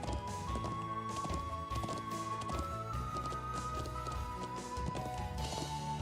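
Rhythmic hoofbeats of a horse galloping in the video game Trails of Cold Steel II, a steady fast clip-clop running over game background music, moderately loud throughout with no talk.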